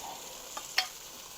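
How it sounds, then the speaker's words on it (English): Onions sauté in a pan for roasted cauliflower soup, giving a soft steady sizzle with a couple of quick stirring scrapes, close and fairly quiet. "Just going to saute that a little bit."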